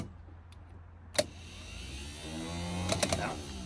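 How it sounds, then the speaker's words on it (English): A Vauxhall Astra van's starter motor, freshly freed from a seized solenoid after years of sitting, clicks once and then whirs into a rising, somewhat weak cranking whine that builds over a few seconds, with no talking. "now that'll be a working starter motor. A bit weak"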